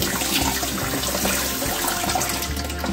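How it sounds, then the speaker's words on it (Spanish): Tap water runs in a strong, steady stream over blanched green beans in a kitchen to stop their cooking, a close, continuous splashing and rushing with no talk. "Y automáticamente le vamos a echar agua del caño para que las vainitas mantengan su color"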